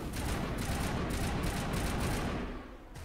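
Rapid assault rifle gunfire from the Mass Effect video game rattles in a steady automatic burst for nearly three seconds, loud and close, then tapers off at the end.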